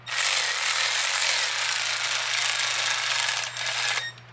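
A Milwaukee cordless power tool drives screws while mounting a radio dashmount in a Polaris RZR Pro, giving a loud, steady, continuous whir for about four seconds before cutting off, with a brief dip near the end.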